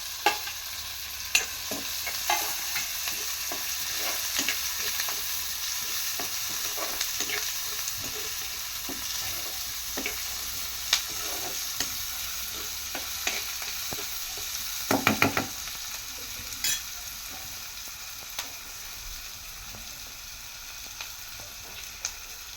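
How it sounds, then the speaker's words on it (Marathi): Garlic, green chili and onion fry in oil with a steady, close sizzle. Frequent sharp clicks and scrapes from stirring break through it, including a brief louder clatter in the middle. "कांदा आणि हे सर्व तेलामध्ये चांगलं आपण भाजून घेणार आहोत"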